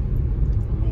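Inside a moving car on a Peak District road, a steady low engine and road rumble fills the cabin, with a person speaking over it.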